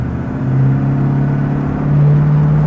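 A 1963 Chevrolet Corvette Stingray split-window coupe passes at highway speed near 70 mph, heard as a steady engine rumble and whirring road noise that swells slightly toward the end.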